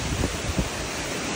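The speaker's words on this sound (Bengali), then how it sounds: "পুরো কালবৈশাখী ঝড় হচ্ছে।" Strong gusts of a Kalbaishakhi storm roar through mango trees in the Bengali countryside during Baishakh, a dense, loud rushing wash with brief buffeting thumps against the microphone.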